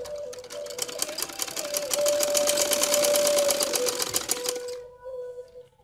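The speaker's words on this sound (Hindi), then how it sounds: "ये देखें इस तरीके से आपने एक पैर के वक्फे के साथ इसके ऊपर सिलाई लगा लेनी" A sewing machine stitches along the pressed fold of a kurti with a steady, fast mechanical whirr and needle patter that runs for several seconds, then slows and stops.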